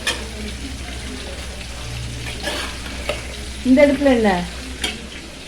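Mutton fry being stirred in a pan for a home Sunday lunch, with a steady low sizzle and scraping stirs under a brief spoken question.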